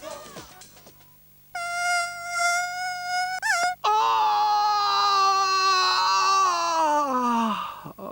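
A buzzing mosquito in a 1990s Spanish TV advert for an insect-bite remedy: a loud, high, whining drone that starts abruptly, wavers and bends in pitch, breaks off, then returns and slowly sinks, over faint background sound.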